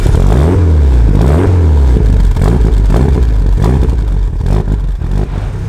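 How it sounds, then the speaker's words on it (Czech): A warmed-up car engine, probably a Mitsubishi Lancer Evolution 7 or a BMW E30, burbles loudly and close up with an uneven, lumpy idle and repeated revving swells, with no talking. "Já úplně miluju ten zvuk toho auta, prostě jak se tak pěkně pobrblává"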